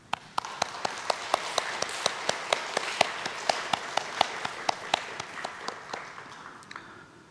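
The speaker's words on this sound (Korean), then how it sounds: "이 시간 이 땅의 어머님들께 마음을 담아 사랑과 감사의 박수를 전해드리겠습니다" A church congregation applauding mothers, with a steady wash of many hands clapping throughout and sharp, evenly spaced loud claps standing out on top, close and full, fading at the end.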